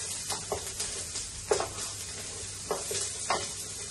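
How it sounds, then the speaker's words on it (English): Mushrooms, garlic and peppers sizzle softly in a frying pan for a sausage and bean casserole, while a utensil scrapes through them in several distinct stirring strokes over a steady close hiss. "Give that a quick stir."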